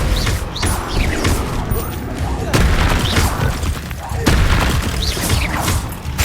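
Descendo spell impacts in Hogwarts Legacy land as a series of heavy booming slams with crashing debris, several loud hits spaced a second or two apart amid whooshing magic effects.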